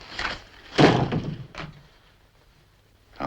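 A door slams shut with a sharp, close thunk, followed by a fainter knock and a later bump, in an otherwise quiet indoor room.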